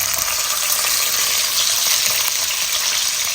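Tomatoes, garlic and mint leaves fry in a hot pan, giving a loud, steady, close sizzle with a little stirring and no talk.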